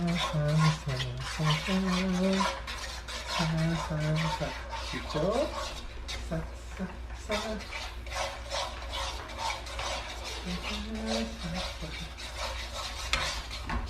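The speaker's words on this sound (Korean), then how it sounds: "양념을 섞어주세요" Seasoning sauce is stirred and mixed in a pan on a lit stove, giving repeated scraping and clinking of a utensil against the cookware over a low background hum, with a voice heard intermittently.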